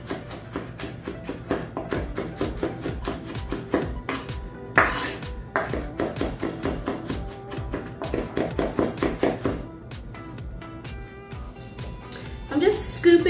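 A butternut squash is scooped out of its skin with a utensil in a kitchen, giving repeated soft scraping and clinking strokes against the dish under steady talking, while a pan sautés nearby.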